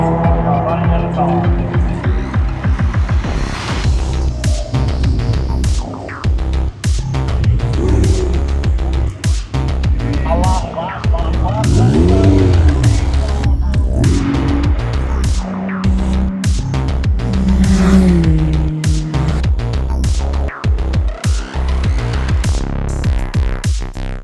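Porsche race car at a Queensland Raceway time attack event, its engine droning loudly and steadily throughout with rising and falling revs, the car close and dominant with no talk over it.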